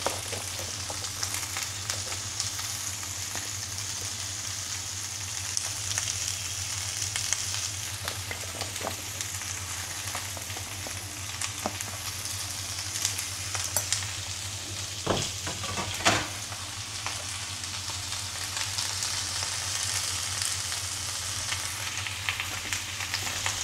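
Chayote fries in a pan with a quiet, steady sizzle, punctuated by occasional scrapes and taps of the stirring utensil, over a low background hum.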